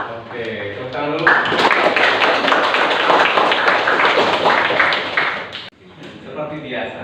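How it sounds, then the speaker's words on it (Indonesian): A class of students claps together in a classroom, a dense steady burst of clapping for several seconds before it cuts off, with voices talking at the start and end. "tepuk tangan dulu"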